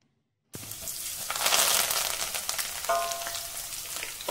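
Garlic frying in hot oil in a pan while making crunchy masala peanuts, a steady close sizzle that starts abruptly and swells, with a brief clink partway through.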